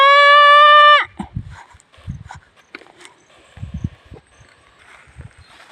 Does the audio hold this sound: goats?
yes